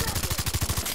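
Rapid gunfire at a buffalo in the video game Far Cry 3, a quick burst of about eight shots in under a second, loud and rhythmic with no pause between them.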